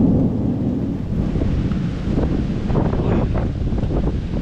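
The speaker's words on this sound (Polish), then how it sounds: "Lubię taką burzę." Thunderstorm with strong wind in the Balkan mountains at night: a heavy low rumble of thunder and gusting wind buffeting the microphone, with rain noise mixed in, loud and continuous, plus a brief spoken exclamation.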